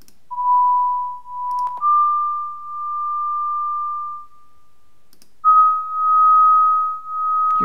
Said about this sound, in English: now you can replay a bandpass filtered recording.